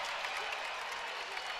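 A crowd at a college wrestling match between Iowa and Michigan applauds in a dense, steady burst of clapping filling the arena.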